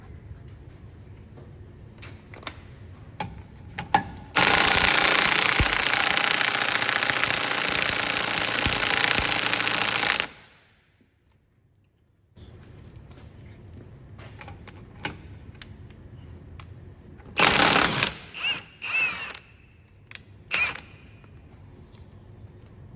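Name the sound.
Milwaukee impact wrench undoing Audi A4 hub centre bolt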